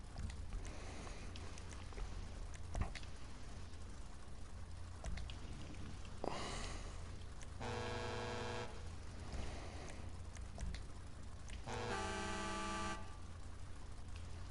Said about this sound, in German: Das ist eine geile Hupe,